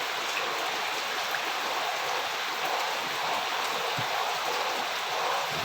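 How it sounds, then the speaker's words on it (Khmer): Heavy rain pours at night while floodwater fills a house, a dense, continuous rushing wash of water, steady and fairly loud, with no talking. "លិចអស់ហើយផ្ទះខ្ញុំបាទភ្លៀងនៅតែបន្ត"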